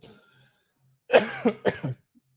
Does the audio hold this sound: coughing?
yes